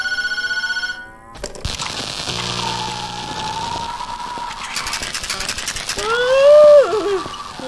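A telephone rings in the Tattletail horror video game: a bright, repeated electronic ring opens the sequence, then other game sounds follow.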